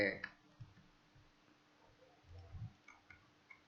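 Quiet computer mouse clicks while working in PowerPoint 2013, a few sharp taps scattered between soft thumps and faint room noise.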